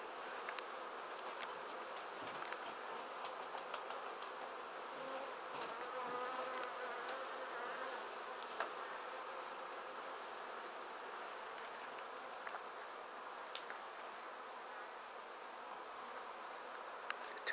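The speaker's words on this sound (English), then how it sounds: "Bees." Continuous soft buzzing of many bees, a steady swarm-like hum at moderate distance with no voices.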